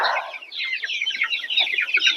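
Several Ross 708 broiler chicks clucking and chirping close by in a busy, overlapping chatter that carries on without pause.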